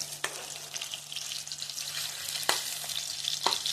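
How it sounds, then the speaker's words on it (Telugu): Chicken pieces for an Andhra-style curry fry over a medium flame, giving a steady, bright sizzle with a few sharp ticks and pops, close and without talk. "ఎర్రగా వేయించుకోవాలండి చికెన్ని."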